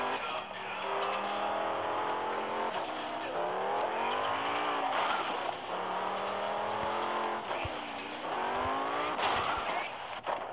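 A car drives in the video game GangStar Vegas, its engine droning and revving up and down steadily and loud throughout, with brief tire noises.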